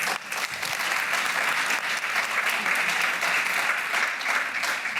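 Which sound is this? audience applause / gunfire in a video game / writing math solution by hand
audience applause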